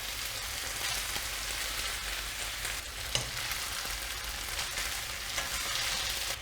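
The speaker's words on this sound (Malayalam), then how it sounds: "ഇനി ഇതിൻ്റെ പുറത്തേക്ക് നമ്മുടെ ബീൻ സ്പ്രൗട്ട്സ് ആഡ് ചെയ്ത് കൊടുക്കാം." Bean sprouts stir-fry with beef in a pan: an even, crackling sizzle fills the whole stretch, with occasional light clicks and one sharp tap of utensil against pan.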